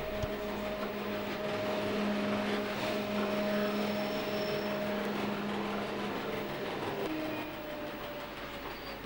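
An MOB 6000 series electric locomotive hauls a train on the Swiss Golden Pass line, with a steady rolling rumble, a constant motor whine and faint wheel clatter at close range throughout.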